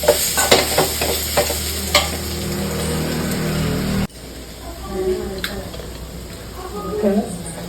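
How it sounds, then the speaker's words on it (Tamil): Shredded cabbage sautéing with salt in a pan for chutney: a steady loud sizzle with repeated scraping stir strokes, which drops to a softer, sparser frying crackle after about four seconds. "முட்டைக்கோசு கொஞ்சம் நேரம் வதங்கட்டும்"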